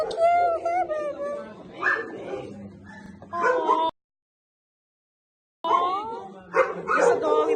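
A small dog being adopted yips, barks and whimpers in short high bursts up close, one stretch breaking off into silence before the cries resume.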